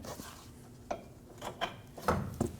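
Bumper bolts being removed from a 2019-2025 Ram 2500 give faint, scattered metallic clinks and taps, a few sharp ticks in quick succession near the end, with nobody talking.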